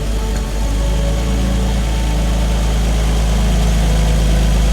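BMW E46 engine idling after a throttle body adjustment with the idle air control valve almost fully blocked, a loud, close, steady rumble with a smooth deep hum throughout.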